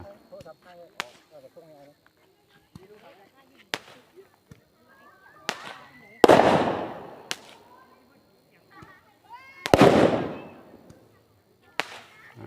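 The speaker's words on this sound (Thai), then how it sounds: "ก็จะมีการจุดประทัดนะครับ เป็นสัญลักษณ์นะครับ" Firecrackers set off at an Ok Phansa lantern-release festival at a Thai temple, several sharp loud bangs spaced over the stretch, two of them big crackling bursts with long decaying tails, amid faint crowd chatter.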